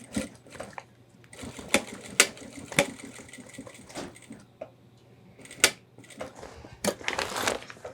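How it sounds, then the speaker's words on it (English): A sewing machine stitches webbing onto a homemade 30L ultralight hiking backpack, running in short close bursts of rapid clatter separated by brief pauses and handling noises. "Carefully fold it out of your way and stitch these bits of webbing on."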